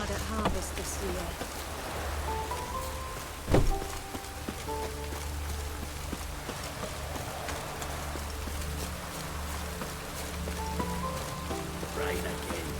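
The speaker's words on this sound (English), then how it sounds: "Rain again." Steady rain in The Witcher 3 patters on a surface, with a soft, constant hiss and low hum underneath and a brief thump partway through.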